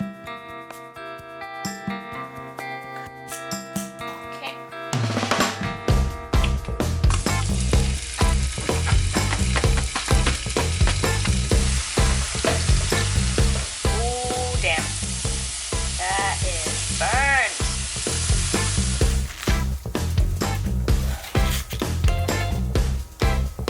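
Pumpkin slices frying in a pan, first a quiet stretch, then a sudden loud, steady sizzle with crackles and scraping stirs that carries on to the end, with faint voices or sounds under it midway.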